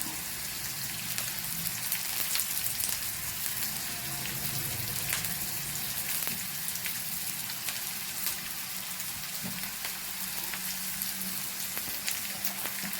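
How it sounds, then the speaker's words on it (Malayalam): Coconut and curry leaves fry in a pan for a roasted coconut chutney, giving a steady, dense sizzle and crackle like light rain that holds throughout, close and even, with no voices. "തേങ്ങ നമുക്ക് വേറെ വറുത്തെടുക്കാം തേങ്ങയും കരിയേപ്പിലയും അങ്ങനെ തന്നെ വറുത്തെടുക്കാം"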